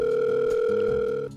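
Steady telephone dial tone held at an even level for over a second, then cutting off abruptly near the end, with no talking over it.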